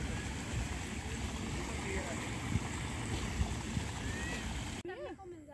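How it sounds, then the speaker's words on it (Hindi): Water rushes steadily through a filter in a garden pond at Sunder Nursery, Delhi, at night, a continuous close wash of flowing water, with a brief voice near the end. "देखो फिल्टर हो रहा है पानी"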